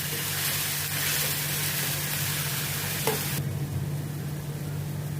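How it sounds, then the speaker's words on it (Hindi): Chopped onion sautéing in a pan for a vegetable sabzi, a steady close sizzle and hiss under a low hum, with one brief stir or scrape near the end before the sizzle softens. "इसको भी अभी मैं थोड़ा सौटे करती हूँ ताकि अनियन का भी कच्चापन निकल जाए।"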